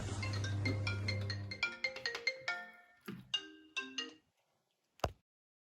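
A telephone plays a bright melodic ringtone for an incoming call, a clear run of tones that stops abruptly, followed by a single sharp click near the end.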